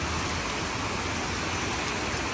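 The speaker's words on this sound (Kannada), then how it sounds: "ನೋಡಿ ಮಳೆ ಬರ್ತಾ ಇದೆ ಅಂತ ಗಾಡಿ ಸೈಡ್ ಹಾಕಿವು" Heavy rain falls hard at a roadside stop during a motorbike trip, making a dense, constant hiss that fills the whole moment with no voices over it.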